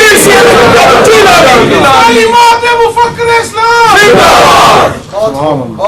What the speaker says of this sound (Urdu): یار یہ آپ لوگوں نے نعرے لگانے شروع کر دی